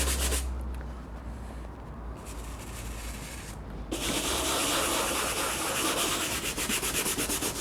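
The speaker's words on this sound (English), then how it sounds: "I tend to use a nice nylon bristled brush, and it allows you to get right into all the little nooks and crannies" A nylon-bristled brush scrubs a car dashboard with soapy water on a Mitsubishi 3000GT/GTO, a steady close rubbing and swishing that grows louder and brisker partway through, with no talking.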